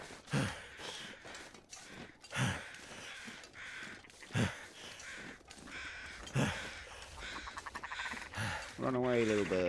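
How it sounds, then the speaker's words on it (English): Crows caw in the snowy wilderness of the video game The Long Dark, with loud harsh calls repeating about every two seconds and a voice speaking near the end. "Run away, little birds."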